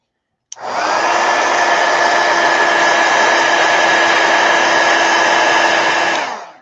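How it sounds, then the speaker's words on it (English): A heat gun blows steadily on an art journal page to dry it, switching on abruptly and running loud and close at an even pitch for about six seconds before cutting off, with no talking. "let me heat gun that real quick."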